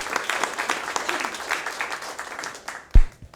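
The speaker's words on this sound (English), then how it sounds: "Yes, round of applause." A meeting audience of the California Coastal Commission gives a brief round of applause in a hall, a thin patter of clapping that fades out within a few seconds and ends in a single louder knock.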